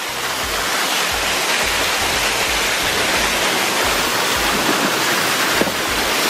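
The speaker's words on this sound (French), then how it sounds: "je suis juste à côté de la cascade du Guéry" Cascade du Guéry near Lac de Guéry in the Mont-Dore area roars with a steady, loud, close rush of falling water that fills the whole clip, with no voices.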